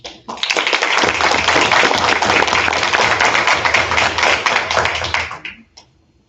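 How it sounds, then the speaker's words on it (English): A school board meeting crowd applauds a volleyball coach after a district championship, a loud, dense burst of clapping that starts abruptly, holds steady for about five seconds, then fades out. "I want to give a round of applause to our coach,"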